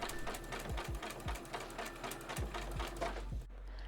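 Sewing machine sewing elastic onto lace with a 3-step zigzag stitch, a steady close mechanical chatter with rhythmic thumps of the needle running continuously before stopping near the end.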